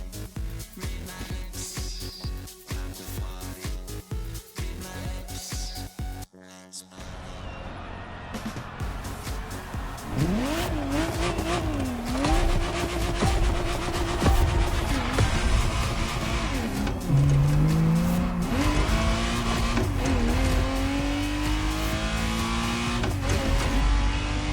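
A Ferrari Testarossa in The Crew Motorfest revs and accelerates hard, its engine note climbing and dropping through gear changes, loud and continuous, with brief tire squeal.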